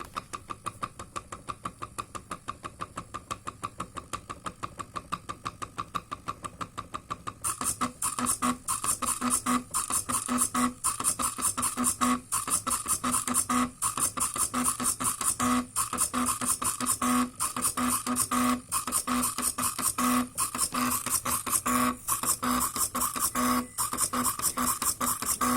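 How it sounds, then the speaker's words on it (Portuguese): An Arduino-driven CNC plotter moves a mechanical pencil into position to draw, its stepper motors giving a rapid, rhythmic mechanical buzzing that grows louder and denser after a few seconds and keeps going steadily with regular pulses. "ele começou a posicionar a lapiseira onde que precisa para começar a imprimir"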